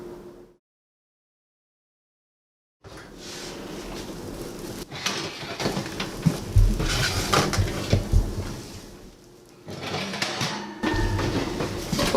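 Roasted pecans being stirred and spread across a metal cookie sheet, a brief silence and then repeated clattering scrapes and rattles of nuts and utensil on the pan, close and fairly loud.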